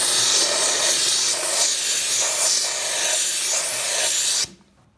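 A Karcher SC5 steam cleaner blasts steam onto chrome, a loud, close, continuous hiss with slight surges that cuts off abruptly near the end, leaving quiet.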